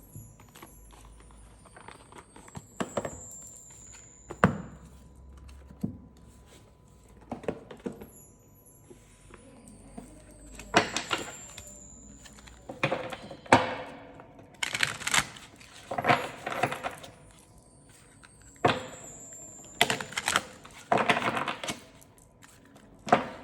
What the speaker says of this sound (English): now let's start the shuffling process